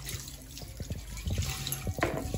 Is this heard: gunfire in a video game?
no